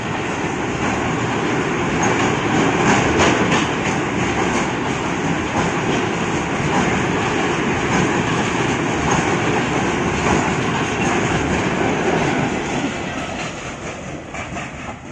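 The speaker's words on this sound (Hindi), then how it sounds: "और ये पैलेस ट्रेन है" The Palace train rolls past on the railway, loud and close, with a dense rumble and rhythmic clatter of wheels over rail joints that fades slightly near the end.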